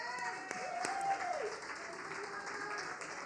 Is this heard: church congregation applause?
yes